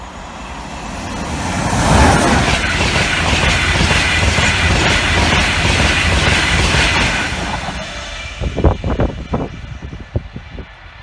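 An LNER Class 91 electric train passes, a rising rush swelling to a loud sustained roar that fades away, followed by a series of sharp rhythmic clatters near the end.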